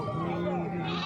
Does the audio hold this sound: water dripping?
no